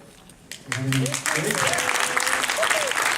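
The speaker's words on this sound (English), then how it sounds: "give you guys a round of applause" Loud applause from an audience standing in honour of people who have had an in-person interview, dense clapping rising sharply after a quiet start and sustained, with voices mixed in.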